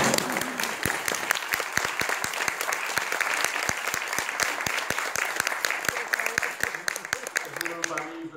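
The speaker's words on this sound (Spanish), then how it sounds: "aplaudan por favor" Wedding guests applaud the newlyweds right after the kiss, a steady crowd of clapping hands at close to mid distance that continues for several seconds before slowly thinning out, with some voices underneath.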